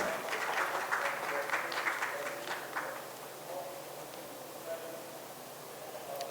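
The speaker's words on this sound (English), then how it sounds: "A big round of applause for Sa-Dhan and Habitat for Humanity" A crowd applauds at a breakaway session honouring Sa-Dhan and Habitat for Humanity, with dense clapping that is strongest over the first three seconds and then thins into a softer, steady patter.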